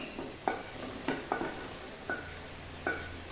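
A spoon stirs a brinjal curry with chicken masala in a pan, giving soft scraping strokes and light metallic taps at an irregular beat under a faint, low sizzle, close and quiet with no voices.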